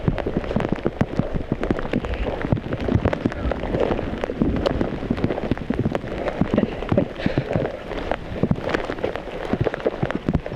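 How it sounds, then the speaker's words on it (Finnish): Rain falls steadily during a thunderstorm on a solo wilderness trip in Kaldoaivi, with dense patters and heavier drops striking a nearby surface continuously and fairly close. "se ukkostaa ja sataa vettä koko aika"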